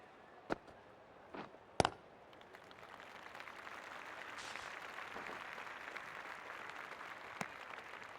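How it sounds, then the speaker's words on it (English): Applause for a cricket batter during a WBBL match between Melbourne Stars and Hobart Hurricanes, a faint, distant spread of clapping that builds gently and holds steady, broken by a few sharp isolated knocks. "Please give her a round of applause"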